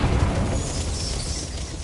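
A Confringo spell explosion in Hogwarts Legacy bursts with a loud, dense blast, then settles into a rumbling, crackling roar that fades slightly but stays strong to the end.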